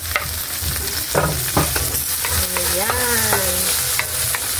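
Onions frying in a hot pan give a continuous close sizzle broken by a few clacks of a spatula, while a short voiced sound rises briefly over the hiss.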